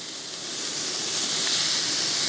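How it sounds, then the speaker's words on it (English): Loud, steady hissing sizzle of onions searing on a hot outdoor grill plate, building slightly and continuing without pause. "So that's gonna give us a nice sizzle."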